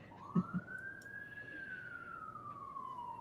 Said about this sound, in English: I thought the sirens were here until I realized they were coming through the speakers